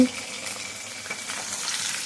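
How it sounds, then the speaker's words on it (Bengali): Fish frying in a pan gives a brief, moderately loud, steady sizzle with soft crackling, heard close and alone without talk. "এখানে মাছ ভাজা হচ্ছে"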